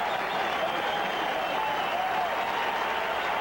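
Stadium crowd at an American football game in St. Louis, Cardinals hosting the Philadelphia Eagles in 1984, a steady distant roar and cheer that holds through the whole stretch without breaks.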